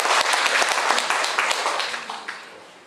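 Audience applause at a Taiwanese speech event, dense and sustained clapping from a crowd that slowly fades toward the end, with no voices over it.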